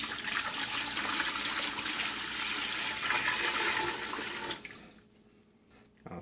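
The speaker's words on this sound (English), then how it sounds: "to our stock pot, as I already shared, I'm going to go ahead and add our water" Water gushes steadily into a stock pot for neck bones and turkey butts, a loud continuous pour lasting about four and a half seconds before cutting off to a faint trickle and near silence.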